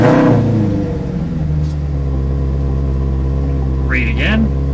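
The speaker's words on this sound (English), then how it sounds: "You then turn the engine on." A Formula 1 car engine idles with a loud, steady low rumble and harmonic drone from start to finish, with a brief higher whine near the end.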